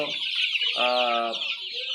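Sonali chickens on a poultry farm cluck close by, with one clear drawn-out cluck over a dense chorus of flock chatter.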